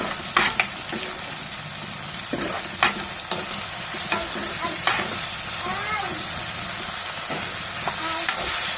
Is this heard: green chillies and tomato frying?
yes